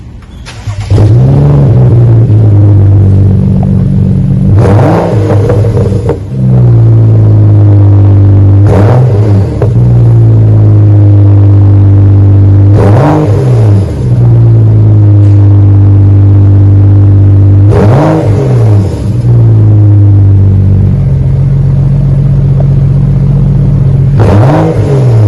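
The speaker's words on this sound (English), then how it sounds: "Did the rear muffler delete and left it all stock up front" A 2013 BMW six-cylinder with its rear muffler deleted and the front exhaust left stock, revved hard about five times in a row, each sharp rise falling back to a loud, smooth idle, close up with no talking.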